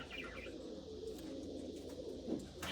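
A pigeon perched nearby coos in soft, low, repeated calls over a faint steady outdoor hum, with no one talking.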